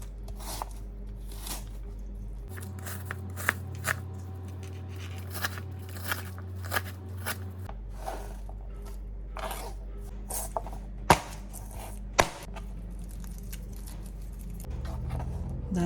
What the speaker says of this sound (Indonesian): Ini bawang merah besar. Jadi kita pun potong ya.